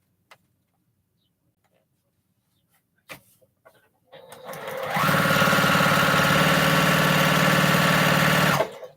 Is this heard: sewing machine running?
yes